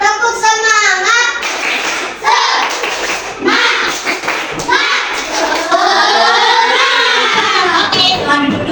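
A fourth-grade elementary class of children chants the 'tepuk semangat' routine together, lively voices punctuated by rhythmic hand claps. The group is close, loud and continuous, with brief pauses between phrases.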